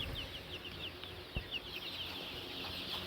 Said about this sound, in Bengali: 300 মুরগি আছে